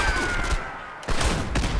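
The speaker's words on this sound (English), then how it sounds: "just tap firing, I got 1 ballistic and 47 explosion" Gauss weapon tap-fired in a video game, a dense burst of loud crackling shots, then a brief lull and a second volley of sharp reports.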